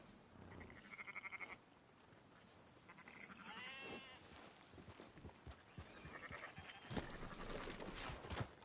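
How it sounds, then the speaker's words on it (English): Sheep bleat in Red Dead Redemption 2, several wavering calls scattered among soft hoof clops and farm ambience, faint and quiet overall. "Fine sheep. They're okay."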